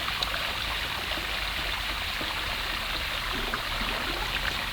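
The River Don in its first rainy season rushes along in a steady, unbroken wash of flowing water, close and even, with no voices over it.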